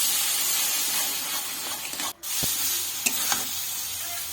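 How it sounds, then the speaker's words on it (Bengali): Tomato paste is stirred and fried in oil for a coriander-leaf katla fish curry, giving a loud, continuous sizzling hiss with scraping stirs. The sound drops out briefly in the middle. "দিয়ে আবারও সবগুলো একটু নাড়াচাড়া করে নেব।"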